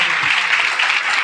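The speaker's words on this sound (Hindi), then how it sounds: "यीशु मसीह के लिए हम जोरदार तालियां बजाएं" A church congregation breaks into loud, dense applause, steady clapping from many hands throughout, close and filling the space.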